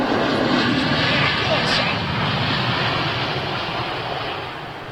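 Aircraft engines run at London Heathrow Airport, making a loud, continuous broadband roar that fades slightly toward the end.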